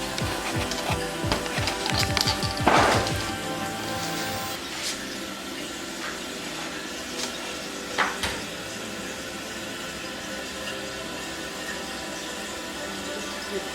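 Toilet tank refilling with water after a flush: a steady rushing hiss of running water fills the whole stretch, louder and more turbulent at first and then settling into an even, moderate flow, with no talking.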